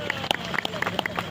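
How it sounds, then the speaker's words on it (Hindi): A crowd at a Nishad Jayanti rally in Katni applauds for Narendra Modi, with scattered close claps popping over a busy background of crowd noise. "एक बार जोरदार ताली माननीय नरेंद्र मोदी जी के लिए बजाएं"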